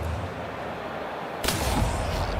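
A single sharp gunshot from a headshot in a video game, a sudden loud crack bursting over a steady low background rumble, no voices.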